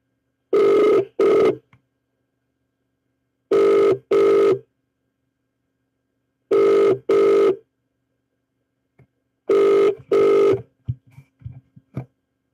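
Telephone ringback tone on an outgoing call that goes unanswered: four loud, evenly spaced double rings with silent gaps between them, followed by a few faint clicks at the end.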